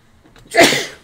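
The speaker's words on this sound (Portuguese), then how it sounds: "desculpa o espirro." A single loud, close sneeze with a brief sharp inhale before the burst.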